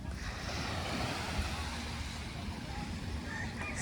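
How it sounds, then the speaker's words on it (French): Soft, steady wash of ocean waves on Bang Tao Beach mixed with wind noise, continuous and fairly faint, with no distinct individual breakers. "avec vue sur la mer, bruit des vagues"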